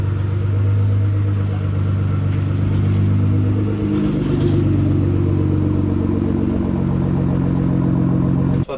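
A Nissan GT-R idles with a deep, steady engine rumble and a brief rev as it rolls into a garage, sustained and close throughout before cutting off at the end.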